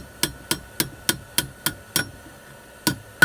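A steel hook being hammered on the horn of an anvil, about ten sharp ringing strikes in a steady rhythm with a short gap before the last two, close and clear with no talk.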